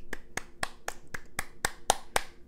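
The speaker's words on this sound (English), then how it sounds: "Claps from me." Nine sharp hand claps in an even, steady rhythm, close and crisp, each a quick isolated crack with no voices over them.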